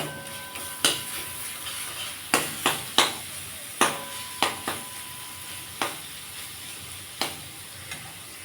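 Spice masala for a katla fish curry fries in oil under a steady sizzle. A spoon scrapes and clanks against the pan about a dozen times at an uneven pace.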